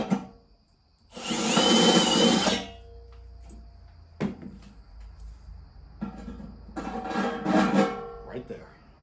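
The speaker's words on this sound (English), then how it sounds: "the metal around the hole that you just drilled" A power drill bores holes in metal on a bumper-mounted RV grill in two loud, sustained whirring bursts separated by a quiet gap with faint knocks, heard up close.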